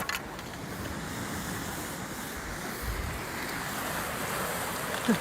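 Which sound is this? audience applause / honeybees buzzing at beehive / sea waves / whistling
sea waves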